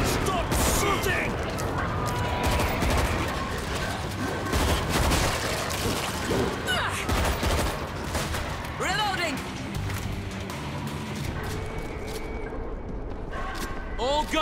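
Dense gunfire from the zombie shooter World War Z, with continuous bursts and shots layered into a loud, chaotic battle, with character voices shouting over the fire throughout.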